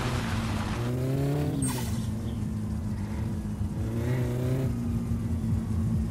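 A turbocharged car in the My Summer Car video game revs hard with rising and falling engine tones and a brief tire squeal, steady and close with no talking.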